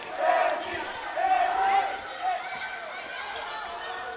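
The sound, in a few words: crowd cheering for Mexico at a dodgeball match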